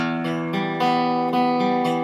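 Sustained electric guitar notes of a riff ring out over one another, each new pluck landing about every half second and left to sustain without muting.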